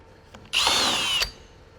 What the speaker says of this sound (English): Let's go ahead and pre-drill.